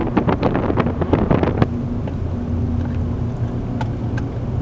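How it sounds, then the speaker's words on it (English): A ferry crossing from Ocracoke to Hatteras fills the clip with steady wind buffeting and a low engine drone, with a few sharp knocks and clatters early on and fainter ticks later. "on another ferry from Ocracoke to Hatteras"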